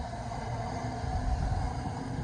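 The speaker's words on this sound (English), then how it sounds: "Whilst here we have a train, another Elizabeth line train," An Elizabeth line train passes Ealing Broadway station on the Great Western Main Line, a steady, fairly quiet low rumble with a faint hum above it, heard from the platform with no talk.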